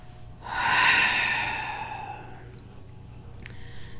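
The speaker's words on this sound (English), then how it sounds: "So let's take a nice big breath." A deep, audible breath in through the nose during a guided meditation, close and airy, swelling then fading into quiet room tone, followed by a faint soft exhale.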